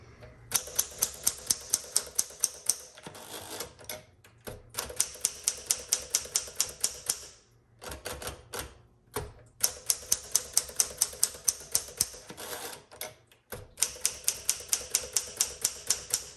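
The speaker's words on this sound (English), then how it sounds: "Let's go ahead and test out every key." Keys clack on a 1960 Smith Corona Sterling manual typewriter in fast, even bursts of strikes, separated by brief pauses, close and crisp with no talking.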